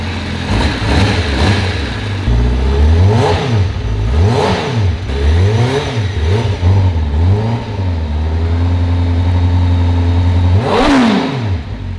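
A 214 bhp Honda motorcycle engine revving repeatedly up and down, with rising and falling roars over a steady, smooth idle, loud and close.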